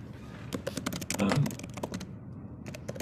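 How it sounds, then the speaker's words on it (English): Keys clatter on a computer keyboard in quick irregular bursts during an online working group meeting, close and moderately loud, with a little speech faintly in the background. "I feel like I'm typing slowly"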